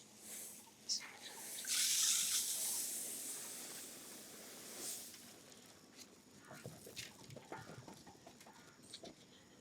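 Ten kilograms of paddy rice grain is poured out for seed sorting and treatment, a short rushing hiss that swells and fades, followed by quieter scattered rustles and faint background sounds.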